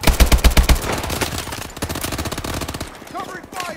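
Rapid automatic gunfire from the video game Call of Duty: Advanced Warfare, loud dense bursts of shots at the start, then continued mixed firing and faint voice sounds toward the end.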